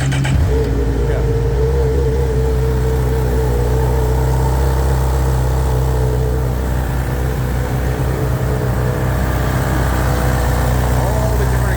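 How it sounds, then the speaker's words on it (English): A Honda CB1000R motorcycle engine runs steadily, a deep, even exhaust rumble that holds at a constant idle-like level throughout, close and loud, with someone talking over it. "Now we got to start up this, right? This bike here doesn't require you to be in neutral started."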